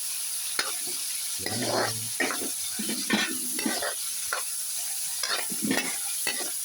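Pancit ingredients sauté in a hot pan, with a steady sizzle of frying and repeated scraping and stirring strokes that come in irregular bursts, close and fairly loud throughout.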